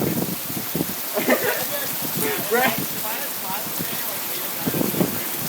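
Heavy rain pours down during a Bay Area thunderstorm, a dense, hissing wash of falling water heard close, while people talk over it throughout.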